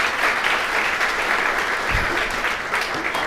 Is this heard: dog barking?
no